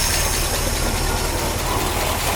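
A 1953 Oldsmobile Rocket Super 88 barn-find engine runs after a key start, giving a loud, steady, low rumbling idle with a faint rhythmic pulse and no talking.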